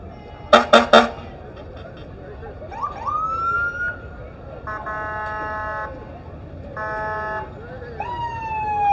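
Siren from an Olivehurst Fire Department engine rolling in a Christmas parade: a few loud horn blasts, then rising wails and steady tonal bursts, fairly close, over crowd noise.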